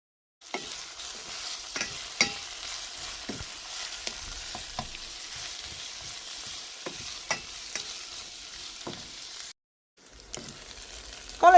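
Onions with salt, parsley and a spoonful of marinade sauté over medium heat with a soft, steady sizzle. Frequent stirring taps and scrapes run through it, and it goes briefly silent before the frying resumes.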